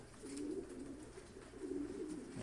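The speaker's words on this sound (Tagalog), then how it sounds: "kalapati natin lumilipad na yun for sure" A young silver pigeon coos softly outdoors, faint low murmuring calls repeating over a quiet background.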